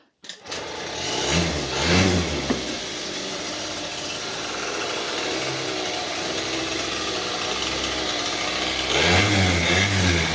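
A Suzuki Lets scooter's small engine starts up and runs steadily with a buzzing whine, rising briefly at the start and end, close by and alone.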